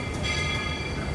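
The Walt Disney World Railroad train at Magic Kingdom rumbles steadily as it rolls into Main Street Station, a continuous close rolling drone with no voices.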